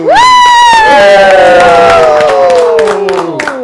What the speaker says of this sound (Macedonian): Еден аплауз!